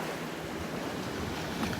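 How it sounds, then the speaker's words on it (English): Ocean waves breaking on a beach at Delnor-Wiggins, a continuous broadband roar of surf with steady wash and some wind, no voices. "Right in here where the waves are breaking"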